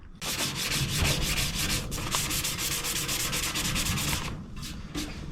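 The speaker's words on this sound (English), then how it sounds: "sand all that filler down" Sanding fiberglass filler on a rusty Honda ATC200X gas tank: a steady, close, abrasive rubbing rasp with rapid back-and-forth strokes, continuous for several seconds before easing off near the end, with no talking.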